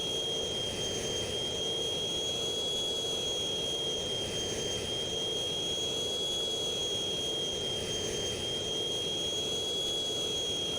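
Jet engine of a fighter plane at full throttle in the Strike Fighters 2 flight game, a continuous loud roar with a high steady whine running over it throughout.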